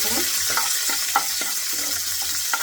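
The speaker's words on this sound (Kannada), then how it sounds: "ಮೆಣಸಿನಕಾಯಿ ಖಾರ ಬಿಡ್ಕೊಳ್ಳೋಕ್ಕಂತ ಸ್ವಲ್ಪ ಫ್ರೈ ಮಾಡ್ಕೊಳ್ಳೋಣ ನೋಡಿ" Green chillies fry in a pan for egg bhurji, a constant hiss of hot oil overlaid with a regular series of soft scraping strokes from stirring.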